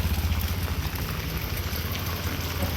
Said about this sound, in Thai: ฝนตกอย่างนี้ตลอดทั้งวัน